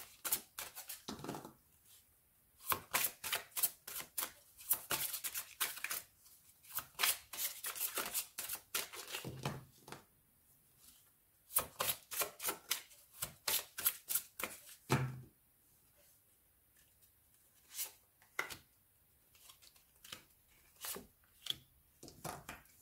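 Tarot cards shuffled and drawn by hand in repeated crisp riffling bursts with short pauses between them, close and clear with no talking.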